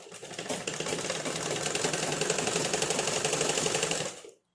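A sewing machine stitching the folded edge of a lungi runs in a fast, even mechanical chatter for about four seconds, close and loud, then stops abruptly.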